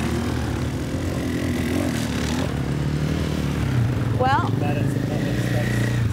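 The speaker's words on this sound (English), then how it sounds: "Very loud motorbikes." Loud motorbikes pass by in an open public space near a bison rewilding area, a continuous engine drone under a person talking, with a brief high whine partway through.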